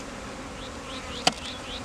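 Honey bees buzzing at beehives set up on an industrial packaging site, a close, steady drone with individual bees sweeping past and a sharp tap partway through.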